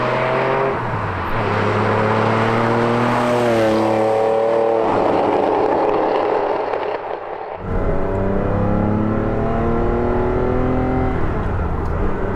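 A red Ferrari 512 BBi, the fuel-injected flat-twelve sports car, drives through open countryside with a loud, sustained engine note that rises and falls through gear changes. The note dips briefly, then climbs again without any talk.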